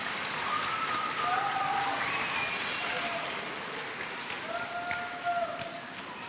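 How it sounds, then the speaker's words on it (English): An audience at a finals event applauds together, a dense sustained wash of clapping that swells then gradually eases, with a few voices and whistles mixed in. "So please give your parents a big round of applause and say thank you."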